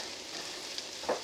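Onions frying in a pan for butter chicken, giving a steady soft sizzle with a couple of brief louder crackles toward the end; no voices.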